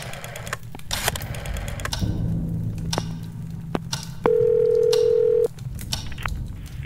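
An old telephone in the horror adventure game Scratches gives a steady electronic tone held for about a second, loud and close, after a few clicks and a fainter earlier tone.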